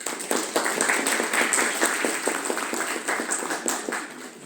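Lecture audience at an Andean linguistics conference claps for the speaker: moderate, somewhat sparse applause with distinct individual claps, easing off toward the end.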